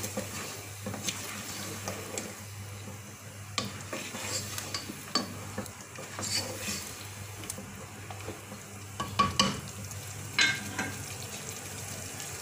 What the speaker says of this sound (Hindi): अब इसमें डालेंगे 2 से 3 खाने के चम्मच दही के, जिसको मैंने पहले ही अच्छी तरह से फेंट लिया है। मिक्स कर लेंगे अच्छी तरह से।